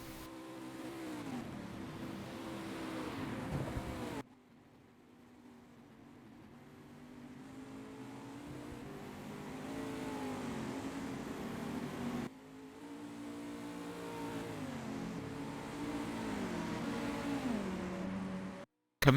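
Race cars at Le Mans in a virtual endurance event, including a Porsche 919 prototype, engines droning and rising in pitch as cars accelerate, with abrupt cuts between sections and a steady mid-level roar.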